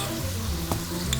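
Minced meat with pine nuts, salt and pepper fries in a pan, giving a continuous close sizzle with a faint scrape of stirring.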